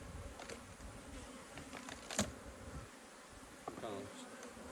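Honey bees swarm and buzz over the top of an open beehive fitted with a propolis trap, a steady close drone with a few louder passes near the microphone.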